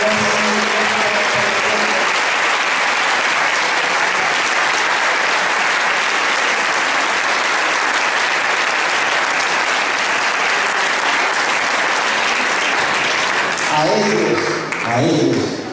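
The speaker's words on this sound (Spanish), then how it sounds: "Yo quiero que le demos un aplauso fuertísimo" A crowd at a church centennial music festival in Kissimmee, Florida, gives a group leader and his musical group a loud, long ovation, a thick wall of clapping that holds steady before fading as a voice and instruments return at the end.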